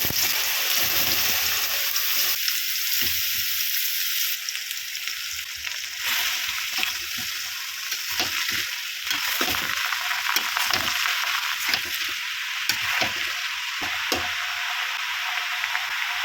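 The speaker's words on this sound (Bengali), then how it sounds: "লাউটা তেলের ওপর ভালো করে কষিয়ে নিচ্ছি" Steady, crackling sizzle of bottle gourd sautéing in hot oil after a tempering of cumin, dried chillies and bay leaf, with occasional clinks and scrapes of stirring throughout.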